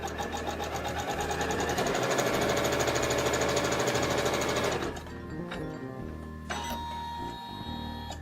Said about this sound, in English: you're going to let the machine stitch the tack down stitch